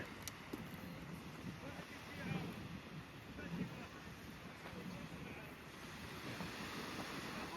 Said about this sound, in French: j'aime plus que tout le bruit des vagues